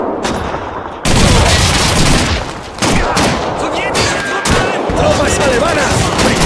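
Relentless gunfire and a grenade blast in the World War II shooter Call of Duty 2, loud and dense throughout, with heavy sustained volleys and a sharp burst near the start, shouted voices mixed into the din.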